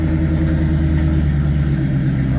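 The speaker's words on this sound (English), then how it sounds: "Well, that's a big difference in exhaust." A car idles with a brand-new exhaust at a Sunday morning car show, a steady low rumble with a deep burbling tone running close and loud through the whole stretch.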